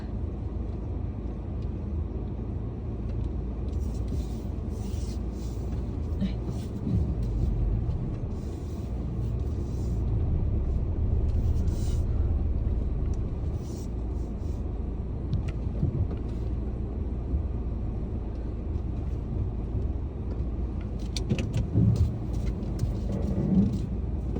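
A car rolls out of the parking lot at The Hub, a steady low engine rumble and road noise filling the cabin throughout, with faint ticking clicks now and then and a brief rise near the end.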